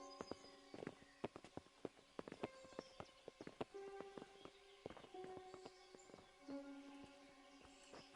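Sparse clip-clop of horse hooves on a hard surface in the video game Kingdom Come: Deliverance, irregular steps over quiet tonal ambience.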